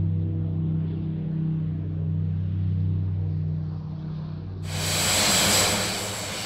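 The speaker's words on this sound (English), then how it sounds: "But here they come, in for a formation landing," Skyvan and Bronco aircraft make a formation landing at a Duxford air show, their steady propeller drone holding loud and close before a sudden broad roar swells in near the end.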